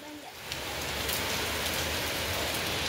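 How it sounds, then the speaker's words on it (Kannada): Heavy rain pours in a dense, continuous hiss that swells and holds loud and steady over the short span, with no clear voices. "ಸಿಕ್ಕಾಪಟ್ಟೆ ಜೋರಿದೆ ಮಳೆ ಮಾತ್ರ."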